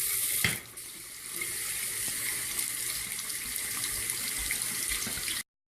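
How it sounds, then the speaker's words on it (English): Steady warm water flowing from a tap into a sink, a constant hiss and splash after a brief knock at the start, then it stops abruptly. "we have the warm water turned on"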